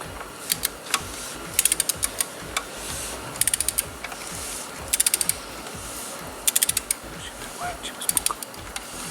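Close, quiet ratcheting of a torque wrench on a Dodge Journey 3.6 oil filter housing, with short bursts of rapid clicks over a background hiss, ending in a few sharper clicks at 25 newton-metres.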